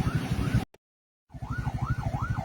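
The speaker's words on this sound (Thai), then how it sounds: "มีรถฉุกเฉิน นะครับกำลังจะไปโรงพยาบาลนะครับ" Ambulance siren wailing in Thai traffic as it is held up by an official convoy, loud and close, cut by a brief silence and then returning with a fast rising and falling wail.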